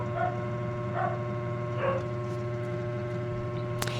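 Several dogs bark intermittently in the distance, faint yips spaced apart over a steady electrical hum.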